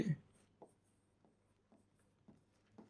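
Marker or chalk strokes on a classroom board during an English grammar lesson: a few soft, scratchy bursts spaced about a second apart, faint and close, with a low steady hum beneath.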